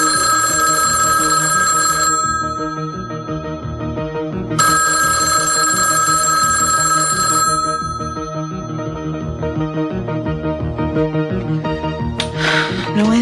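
A landline telephone rings unanswered, loud repeated electronic ring bursts with a pause between them, followed by a brief clatter near the end.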